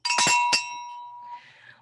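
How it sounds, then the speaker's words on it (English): A small bell is rung to open a Rotary Club weekly meeting: three quick bright strikes, with the last one leaving a clear ringing tone that fades slowly against faint room noise. "I'll ring the bell here."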